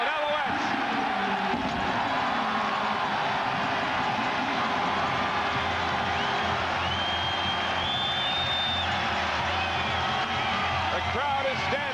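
Stadium crowd at Molson Stadium in Montreal roars steadily after an Alouettes touchdown in a CFL East Final against Winnipeg, a loud continuous wash of cheering with a whistle-like tone drifting through.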